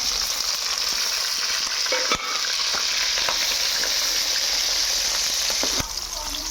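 Two large onions and green chillies frying in about 200 grams of hot oil, a steady loud sizzle with scattered clicks and scrapes of a spatula stirring the pan, no talking.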